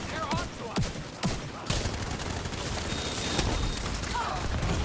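Gunfire in a video game aimed at a rushing enemy, a burst of several sharp shots early on, then a dense, continuous clatter of fire and action noise filling the rest of the stretch.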